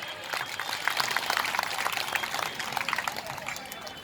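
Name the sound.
audience clapping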